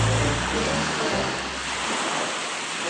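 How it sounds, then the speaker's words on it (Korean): Ocean surf rushes in a steady, broad wash of noise that swells slightly and then eases, loud and continuous with no voices. "파도 온다, 그러다."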